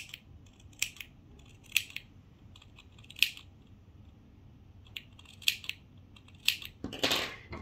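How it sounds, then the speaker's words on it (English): Sharp metallic scissor snips come in a loose, irregular series, close and clear, as blades trim all around the sewn seam of a fabric baby comfort toy, with a rustle of cloth near the end. "once you've sewn it together, make sure to snip all around."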